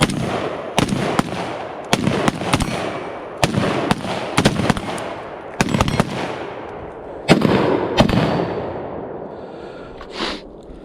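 Rifles crack in a rapid string during a shooting drill among friends, a dozen or so sharp close shots in quick bursts with short gaps, each leaving a ringing tail and no talk.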